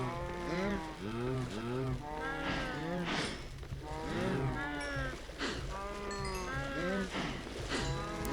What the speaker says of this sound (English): Let me mind meld with you cows so I can feed you easier.